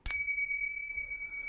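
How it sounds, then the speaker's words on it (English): A pair of Turkish finger cymbals is struck once, giving a sharp metallic ding that rings on with a clear, sustained shimmer, close and alone. "Turkish finger cymbals."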